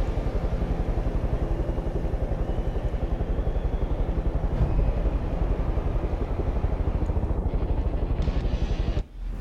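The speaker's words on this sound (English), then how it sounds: "Waiting for this helicopter to leave." A helicopter in the video game Far Cry 5, a steady, loud rotor drone with a pulsing chop holding level throughout, cutting off abruptly near the end.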